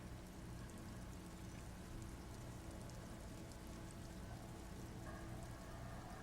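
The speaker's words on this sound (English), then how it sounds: "Droplets of rain fall on the wooden planks, the surrounding sand dunes." Steady, dense rain falls on wooden planks amid sand dunes in the Disco Elysium video game, a continuous hissing patter throughout with no voices.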